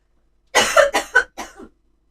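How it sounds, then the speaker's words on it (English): Four quick, close coughs from a person indoors during a live craft session, each a short harsh burst with brief gaps, the last two slightly softer. "I do apologise if I have to cough."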